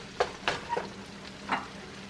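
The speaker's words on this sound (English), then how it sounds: "we're going to let this cook until this beef has absorbed that water" Ground beef sizzles and fries in a pan while a utensil scrapes and breaks it into smaller pieces, producing several distinct stirring knocks over a steady close sizzle.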